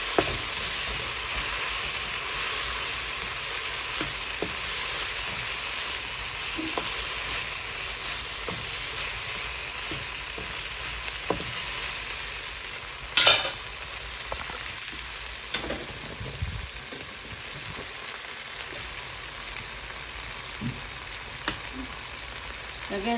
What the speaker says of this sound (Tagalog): Ilagay na natin yung ground beef. Haluin lang natin.